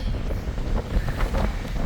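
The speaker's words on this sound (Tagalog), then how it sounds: "Sobrang hangin kung naririnig nyo, no?" Strong wind buffets the microphone in rough, rumbling gusts at a mountain peak in Banff, Canada, loud and continuous, with no voices.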